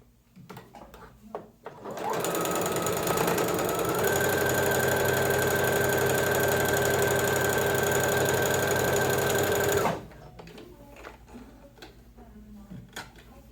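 A sewing machine runs steadily for about eight seconds, stitching the heel seam of a fabric slipper, a loud even whir with a rapid ticking rhythm, starting and stopping abruptly amid quieter handling sounds.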